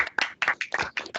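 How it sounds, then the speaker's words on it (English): A small audience at a high school band low-brass masterclass gives a round of applause for a Marine Corps Band trombonist, heard as a few uneven bursts of nearby clapping that start and stop over about a second. "Let's give him a round of applause."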